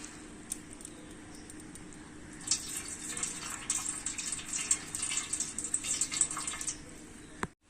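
Tap water runs steadily while rice is washed in a kitchen, a moderate splashing gush that swells midway and continues under faint handling noise before cutting off at the end.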